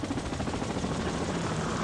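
Helicopter flying overhead somewhere near an old carnival site, a steady, continuous broadband rotor and engine roar with no breaks, fairly loud and holding level throughout.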